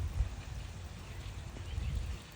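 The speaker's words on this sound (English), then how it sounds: "it's raining like crazy" Heavy rain pours steadily outdoors at a feral cat feeding spot under low tree branches, a dense continuous wash of broadband noise with rumbling low patter, no voices.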